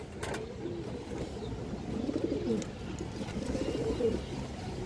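A female pigeon coos softly and close in a loft, low rolling coos repeating through a steady background hum, with no talk heard over it.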